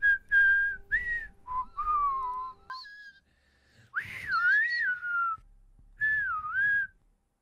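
A person whistles a wavering, melodic tune in short phrases with gliding pitch bends and brief pauses, close and clear, with no talking over it, during a Rainbow Six Siege gaming session.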